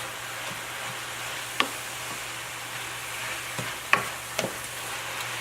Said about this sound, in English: Keep stirring it. Keep stirring it. Keep stirring it.